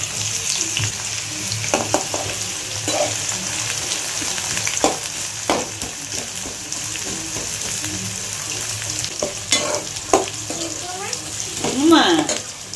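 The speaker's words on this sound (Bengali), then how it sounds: "আমি এটা ভেজে নিই। আলুটা লাল হয়ে গেছে" Potatoes browning in oil in a pan, with onions about to go in. A continuous sizzle carries throughout, broken by scraping stirs and utensil knocks, louder bursts of spatter near the end.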